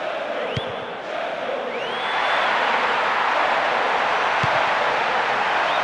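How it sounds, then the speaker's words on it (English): A packed stadium crowd in the PES 10 football video game, Liverpool versus Manchester United, keeps up a steady, dense roar that swells louder after a couple of seconds, with a few faint whistle-like tones rising above it. "The crowd close to the pitch makes for a good atmosphere."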